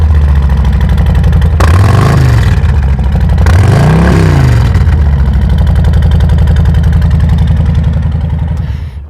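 Harley-Davidson motorcycles at a dealership in Joplin during an Independence Day gathering, a loud, close rumbling engine idle broken by two sharp revs that rise and fall before settling back to a steady throb.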